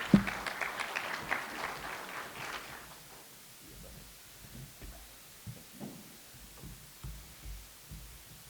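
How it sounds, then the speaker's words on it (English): Brief audience applause after a talk on engine tuning, a short burst of clapping that fades within about three seconds, followed by quiet room noise and soft thumps. "another round of applause for Ian"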